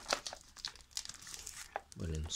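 A parcel wrapped in several layers of tape is unwrapped close up: busy crinkling, rustling and tearing of packaging, with a voice briefly murmuring toward the end.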